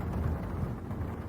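Low rumbling thunder rolling steadily and fairly loud, with no voices, in a short continuous stretch.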